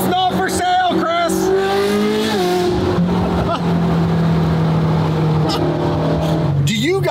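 Ferrari 458 GT3 widebody race car engine revving hard, sharp rising and falling pitch sweeps from blips and pulls, loud and close, with people talking and cheering around it.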